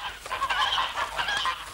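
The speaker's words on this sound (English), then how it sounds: "I looked at the geese, which was hissing and huddling in the corner of the yard." Geese honk and hiss together in a yard as an audio drama effect, a loud, close, continuous cluster of overlapping honks lasting the whole short stretch.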